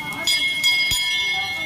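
Large bells at a Ganesh temple give a few quick metallic strikes that leave a bright, lingering ring, under someone talking nearby.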